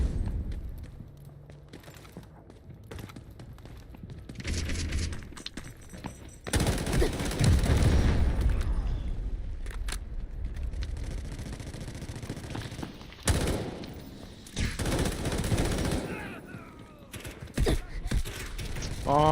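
Dense gunfire from the Delta Force video game fills the mix: sustained automatic bursts, heavy blasts and rattling mechanical sounds, loud and continuous, with a few brief gaps.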